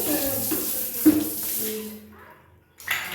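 Running water splashing from a tap as a toilet brush is dipped and swished in it, with a clatter and then a brief pause before the flow returns.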